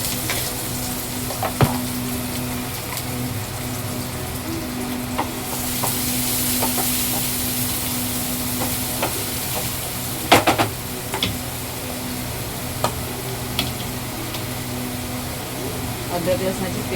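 Onion and green chili fry in hot oil in a home kitchen, giving a steady, close sizzle with occasional stirring clinks while someone talks.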